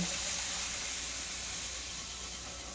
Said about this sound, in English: We're just gonna add it to our pan like so and whisk while we pour it in.